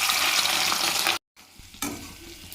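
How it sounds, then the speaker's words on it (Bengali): Fish roe, coated in salt and turmeric, fries loudly in hot oil in a wok: a dense, steady sizzle that cuts out abruptly for a moment, then returns more softly and swells again. "এইটা এবারে একটু কড়াই তেল দিয়ে দিয়েছি, এটা ভেজে নেবো আগে।"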